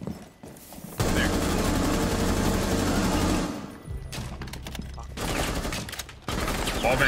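Video game automatic gunfire shooting through a wall in a 4v5 match: a long loud sustained burst, a brief pause, then further bursts, close and dense, with a little voice underneath.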